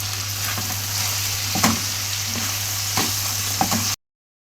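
Onions sizzle steadily in a pan for shawarma, a continuous frying hiss with a few clicks of stirring, close and fairly loud, no talk, ending in abrupt silence.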